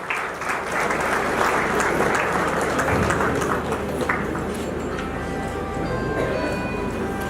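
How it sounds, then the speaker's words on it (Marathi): A large audience claps loudly and steadily, a dense sustained wash of applause at a commemorative gathering honouring a poetry collection's author, with faint murmuring voices beneath. "जोरदार टाळ्या वाजवायच्या पंकज भावेसाठी"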